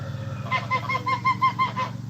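Chickens cluck in a farmyard breeding coop, a run of short, evenly spaced mid-pitched calls over a steady low background hum, fairly close and clear with no talking.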